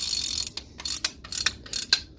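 Anti-reverse mechanism of a vintage DAM Quick 220N spinning reel from around 1974, a close, sharp run of ratcheting clicks in uneven bursts as the rotor is turned, with no voices.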